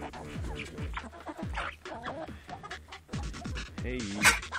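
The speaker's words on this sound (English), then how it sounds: "Chickens!" Farm chickens on Cape Breton Island cluck close by in quick bursts of short rising calls, with a brief sharp squawk near the end.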